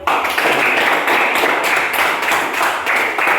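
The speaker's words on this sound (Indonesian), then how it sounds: "Tepuk tangan untuk" A group of children clap in a classroom after a correct answer in a step-by-step direction exercise, continuous close, brisk patter filling the whole stretch at steady loudness.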